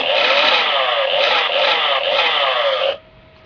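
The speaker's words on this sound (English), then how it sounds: "this is my favorite chainsaw out of the bunch. I'm going to use this one definitely. Mostly because it has proper sound." Chainsaw engine running: a loud, buzzing two-stroke drone held steadily for about three seconds, then cut off abruptly, leaving a faint hum.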